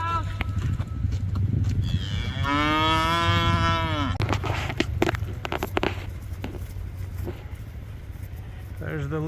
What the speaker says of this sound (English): We have some cows to move. Here come our cows.